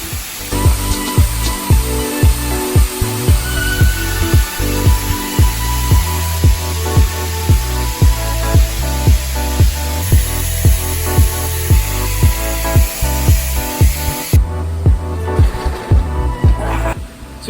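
Industrial HVAC equipment powers up and runs. A loud, steady broadband roar is overlaid by a rapid, regular thumping pulse, with a high whine persisting above and shifting partway through.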